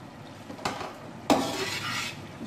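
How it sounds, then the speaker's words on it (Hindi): Bhindi gosht in a pot: fried okra being stirred into cooked chicken curry, with two sharp scrapes of a spoon against the pot followed by a soft, wet churning and a faint sizzle, close and without talk. "इसको आपने अच्छी तरह मिक्स करना है।"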